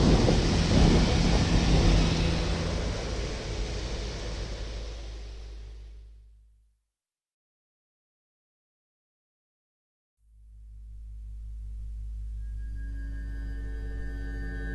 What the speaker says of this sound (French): Il y eut des éclairs, des voix, des tonnerres, un tremblement de terre et une forte grêle.